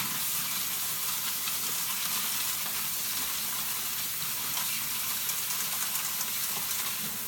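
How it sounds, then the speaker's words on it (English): Steady sloshing and swishing as a bikini competition suit is fluffed around in soapy water, a continuous broad wash of splashy noise without pauses. "I just kind of fluff it around."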